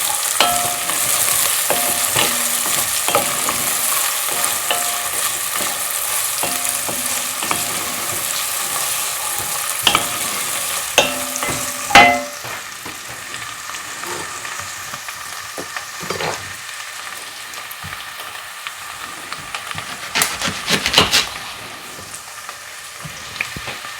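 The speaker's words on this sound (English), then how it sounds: "Give this a stir." Soup ingredients frying and sizzling in a pot while being stirred, a steady hiss with intermittent scraping and clinks of the spoon, close and fairly loud, with no talking.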